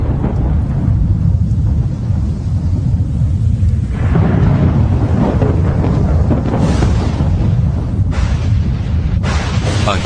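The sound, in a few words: lightning bolt and thunder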